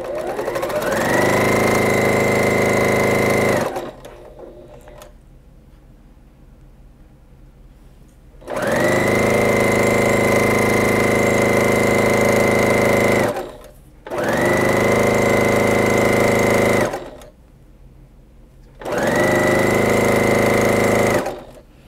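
Sewing machine stitching fat quarter fabric pieces, starched quilting cotton, in loud sustained whirring runs of several seconds each, separated by brief pauses, close up with no talking.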